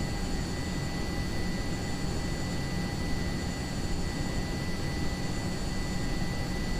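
The jet engine of a Hawker Hunter in a flight simulator, a steady, loud, unbroken roar with faint whining tones held throughout.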